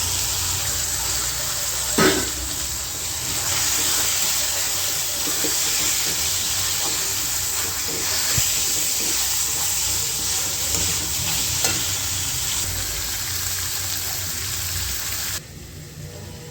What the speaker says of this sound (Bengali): এবার এই সময় আমি মটরটা দিয়ে দিচ্ছি